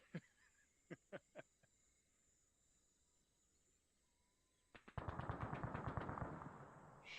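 Gunfire in the military game ARMA 3: a few sharp, spaced single shots at a distance, then a quiet pause, then a sustained rapid burst of automatic fire that is much louder and nearer.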